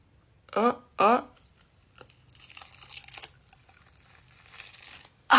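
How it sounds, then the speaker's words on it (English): A special effects makeup prosthetic is ripped off by pulling a zipper, giving soft, scattered tearing and crinkling over several seconds after two brief vocal sounds, ending with a louder burst. "If I just pull the zipper, will it rip off?"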